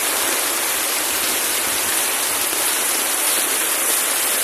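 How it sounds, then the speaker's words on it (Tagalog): Heavy rain from Typhoon Goring pours down in a constant, dense roar of hiss, loud and unbroken throughout, with no voices. "Lalong nilakasan ang ulan."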